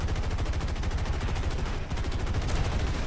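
Rapid 20mm cannon fire from a prop fighter carrying four cannons in the air-combat game War Thunder, a dense, even stream of loud bursts that is interrupted briefly by a short gap partway through.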